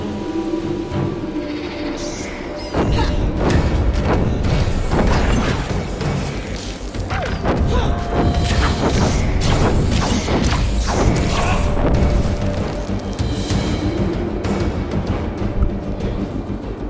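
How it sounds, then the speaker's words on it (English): Heavy cannon fire booms and crashes repeatedly amid clattering combat effects in Dungeon Siege 3, loud and close, forming a dense, rumbling barrage with little talk. "Cannons again."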